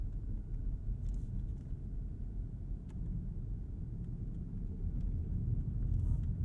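Low, steady road rumble fills the cabin of a 2022 Rolls-Royce Ghost rolling over ruts, potholes and dips, muffled and even, with a few faint knocks from the suspension.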